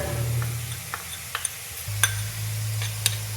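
Chopped onion frying in a pan with turmeric added, a steady sizzle under scattered sharp scraping and stirring clicks from a spoon.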